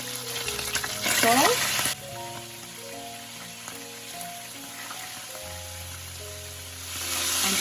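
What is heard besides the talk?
beef stew ingredients sautéing in a pan with chopped garlic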